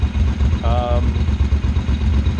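A Ducati motorcycle engine at idle, a close, loud, steady low throb with a brief higher whine in the middle.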